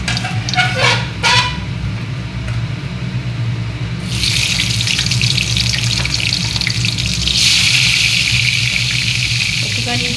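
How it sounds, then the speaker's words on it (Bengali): Cumin seeds hit hot oil in a wok for a fish-head chorchori and break into a loud, steady, bright sizzle partway through. A low background hum and a few faint clicks come before it. "জিরে ফোড়ন দিলাম"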